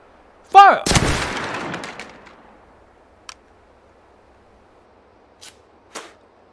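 A musket volley from line infantry in a VR line battle game cracks out as one loud ragged blast that rolls off into a decaying rumble, followed by a few faint distant shots.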